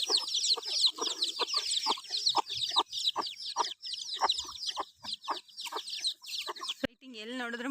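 Many chickens clucking and chirping busily together, a dense, continuous flock chatter with high peeping of chicks throughout, ending in a brief louder call.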